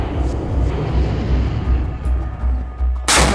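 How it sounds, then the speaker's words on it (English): A Mark 45 5-inch naval gun on an Arleigh Burke destroyer fires one sharp, very loud blast at the end, following a steady low rumble of the ship. "The average destroyer features a single cannon on the front deck, typically a Mark 45 5-inch gun."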